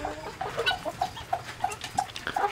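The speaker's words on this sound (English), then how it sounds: "Those are my two roosters." Chickens and roosters on a farm give a rapid string of soft, regular clucks nearby, with some scratchy background movement and a few louder calls mixed in.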